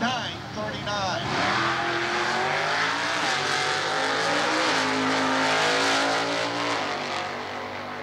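Super Stock eliminator drag race cars launch at a 1992 Atlanta event, one a 307-cubic-inch car. Loud engines roar and climb in pitch close by, filling the whole stretch.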